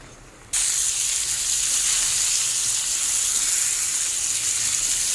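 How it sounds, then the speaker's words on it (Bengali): Lentil dumplings (bori) drop into hot oil in a wok: after a short quiet start a sudden bright hiss bursts in and holds as a steady, close, loud sizzle. "এখন এই গরম কড়াইয়ের মধ্যেই দিয়ে দেবো কটা বড়ি। বড়ি কটাকেও একটু লাল করে ভেজে নেব।"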